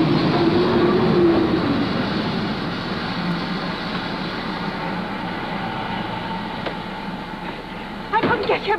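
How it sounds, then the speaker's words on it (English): A steam-era train rumbles into a station, loud and continuous with a fading whistle early on and clanking near the end. "Ah, here comes the train."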